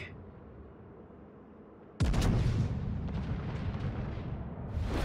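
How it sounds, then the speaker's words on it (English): In the World of Warships video game, a ship's secondary guns open fire, heard as a sudden loud blast after quiet ambience and then a dense run of overlapping booming shots. "the secondaries are opening up"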